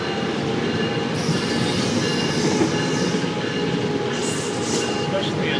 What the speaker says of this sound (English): But now the train is leaving on its way to Cypress Creek Station